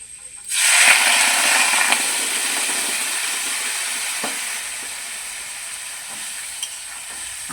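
Elephant foot yam and potato sizzle loudly in a hot pan as water is added, a sudden hissing burst that settles into a steady, close frying sizzle with faint stirring clicks.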